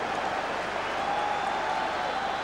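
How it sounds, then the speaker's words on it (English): Football crowd at a Rangers versus Hibs match applauding, a steady, moderately loud wash of clapping from a large stadium audience, sustained throughout. "It draws applause."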